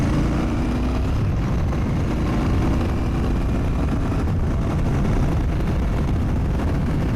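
A Royal Enfield Bear motorcycle engine revving hard under acceleration on smooth tarmac, a loud continuous roar blended with heavy wind rush and no talk.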